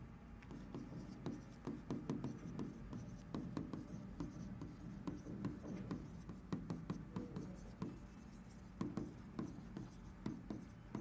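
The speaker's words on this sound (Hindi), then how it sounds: "मैं लिख देता हूं" Handwriting with a pen on paper, a close, quiet run of quick scratchy strokes and taps repeating steadily throughout.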